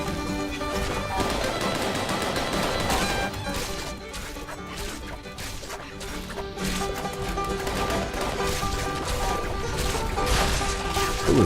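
Shotgun blasts and combat noise in Fallout 76 keep up a loud, constant clatter of sharp repeated shots and impacts with no pause for the whole stretch.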